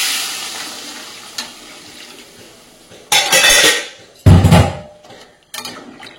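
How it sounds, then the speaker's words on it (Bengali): Hot water poured into a pan of Bengali fish curry base with spiced potatoes and kohlrabi, two loud gushing splashes of a few seconds each over a quiet kitchen background, followed by a shorter splash. "এবার এর মধ্যে পরিমাণ মতন গরম জল দিয়ে দেবো।"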